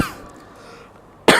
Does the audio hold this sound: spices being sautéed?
no